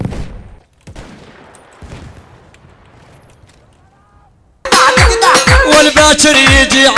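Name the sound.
bombs and gunfire in video game Battlefield 1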